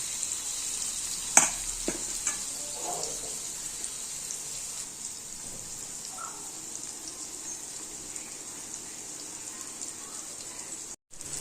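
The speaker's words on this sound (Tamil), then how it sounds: "மீன் வறுவல் நல்லா கிறிஸ்பியாக முறு முறுன்னு சூப்பராக ரெடி ஆகிடுச்சு." Fish fries in a pan until crisp, a thin, even hiss that carries quietly throughout, with a few sharp clicks and knocks early on and no clear talk.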